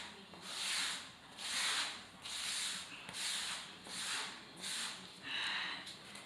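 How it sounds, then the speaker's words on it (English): A sponge wipes grout off large floor tiles in about seven rhythmic back-and-forth strokes, each a soft close rasping swish rising and fading, with no talking. "I wipe it once or twice with this sponge, and then I wring it out again"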